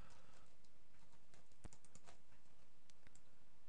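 Faint typing on a computer keyboard, a scattering of light, irregular key clicks at low level under a quiet background hiss.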